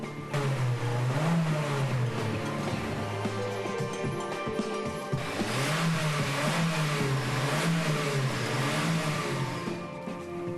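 A petrol car engine revs up and down repeatedly, rising and falling in pitch, loud and close with a steady mechanical drone underneath.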